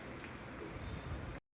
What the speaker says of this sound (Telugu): ఇప్పుడైతే బయట చూడండి వర్షం పడుతుంది.